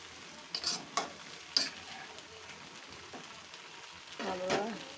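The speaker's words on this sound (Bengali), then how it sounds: "মাছ ভাজার তেলেই পটল এবং কিছু আলু কেটে দিয়ে দিলাম।" Pointed gourd and potato pieces frying in leftover fish oil, a quiet sizzle broken by a few sharp clinks and stirring scrapes, with a louder burst of frying near the end.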